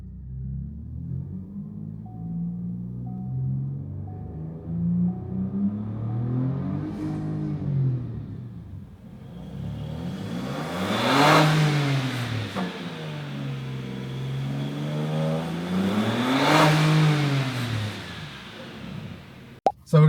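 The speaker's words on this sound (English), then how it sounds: "I'm going to give it a quick burst in second, rev it out" A Next Gen Ford Ranger Raptor with a mid pipe exhaust, set to quiet mode, is revved in quick bursts in second gear. A steady engine drone swells and falls through several rising and falling rev sweeps, closing with a sharp click.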